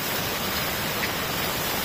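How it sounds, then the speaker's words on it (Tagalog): Rain from Typhoon Gener pours steadily as an even, dense hiss, unbroken and fairly loud throughout. "sabay yung ulan"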